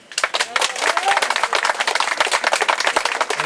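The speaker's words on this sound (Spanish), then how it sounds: "Que se escuche fuerte el aplauso por esta obra" A crowd applauds at a municipal public works handover ceremony, a dense burst of individual claps that swells quickly and keeps going strongly, close and lively.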